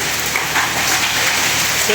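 Heavy storm rain pours across large rooftops in Lahore as a dense, continuous hiss of drops, loud and unbroken throughout.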